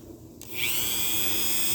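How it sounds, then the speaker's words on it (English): A Dremel rotary tool spins up after a short pause, then holds a steady high-pitched whine as the bit grinds, close and loud. "I'm going to get another Dremel bit on there"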